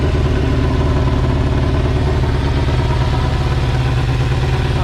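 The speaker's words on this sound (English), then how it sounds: "Put fresh gas in it, bike fired right up." A 1987 Yamaha FZR 1000 motorcycle with a Vance and Hines replica exhaust runs on fresh gas after five years of sitting, giving a loud, close, steady engine drone with a fast, even pulse and no voices.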